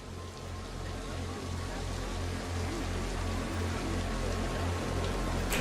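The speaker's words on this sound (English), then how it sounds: "It looks really cool in the rain." Rain in the video game Planet Coaster 2, a steady hissing downpour with a low rhythmic hum beneath it, constant and even throughout.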